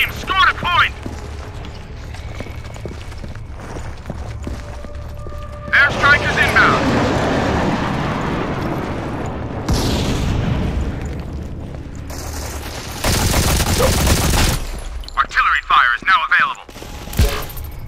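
Airstrike in a Modern Combat 4 online match: heavy booms and a long rumbling roar of explosions, loud and close, with scattered game sounds, gunfire and a voice callout.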